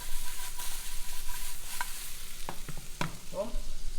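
Ro-Tel tomatoes get stirred into a sizzling fajita mix in a pan, a steady close hiss overlaid with a few distinct scraping and knocking strokes of the spoon in the second half, with no voices.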